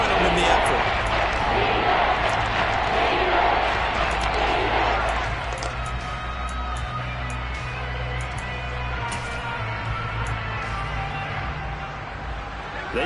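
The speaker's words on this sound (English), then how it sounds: "That just means this crowd's going to get even louder." Football stadium crowd roaring loudly ahead of a third-and-goal play near the end zone, a dense sustained wall of noise that eases slightly midway and stays steady, with commentary voices running over it.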